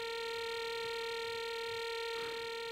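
A looped Tuba Growl sample on an Ensoniq Mirage Series 2 sampler sustains as a steady, buzzy drone, evenly loud for nearly three seconds with no voices.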